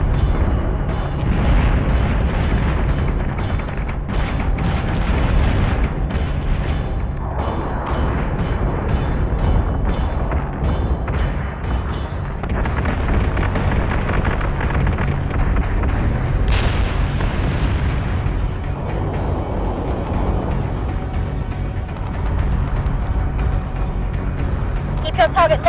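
An artillery salvo in the space combat game Battlestar Galactica Deadlock rumbles as continuous deep booms and blasts, loud and dense throughout, with rapid clicking game effects and a voice speaking over it at times.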